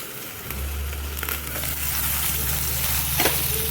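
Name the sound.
stuffed masala chilies sautéing in a pan on low flame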